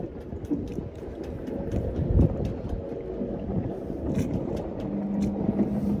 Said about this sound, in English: this wind is just terrible